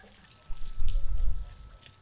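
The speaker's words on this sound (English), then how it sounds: "You let all that drain out, and then you're going to get your hose in there and flush the rest of it out." Water draining out of a caravan hot water system, a low rushing gurgle that swells after half a second, stays steady and fades toward the end, heard nearby without talk.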